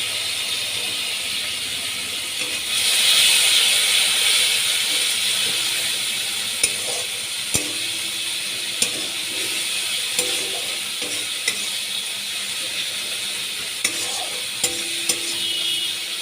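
Katla fish head and moong dal fry in a pan as dal water is poured in, giving a surge of hissing steam, then a steady sizzle with repeated scraping strokes and occasional clicks of the spoon against the pan.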